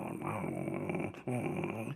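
A voice imitates a dog growling as it gnaws and tears at meat, a rough, throaty rumble held for about a second, broken by a brief pause, then resumed close up.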